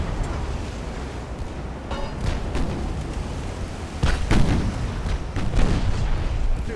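Warship guns firing high-explosive shells in the naval game Ultimate Admiral Dreadnoughts, several heavy booms in irregular succession over a continuous rumbling battle background.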